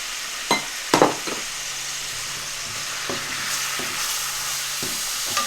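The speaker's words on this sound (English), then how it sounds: "It's very important to give it a stir after you've added spices so that they don't get burnt." Ground spices, chili flakes and salt fry in oil in a pan for masala yoghurt aubergine, a steady sizzle broken by a few sharp utensil knocks and stirring scrapes, close-up with no talking.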